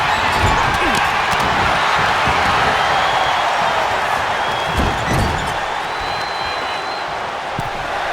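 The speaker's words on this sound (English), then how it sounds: "The crowd is counting it down." A wrestling crowd roars in a WWE video game arena, a loud, dense, continuous cheer with a commentator talking over it and a few thuds.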